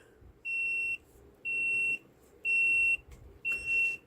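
A Let's Resin AI resin mixer beeps when its mixing cycle finishes: four evenly spaced, loud electronic beeps, each about half a second long, ringing out over quiet background hum.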